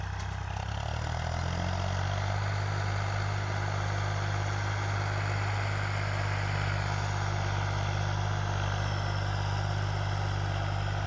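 Powertrac tractor engine pulling a 14-disc harrow in a field, a steady continuous low diesel drone with no drop in revs, loud and close throughout with no voices.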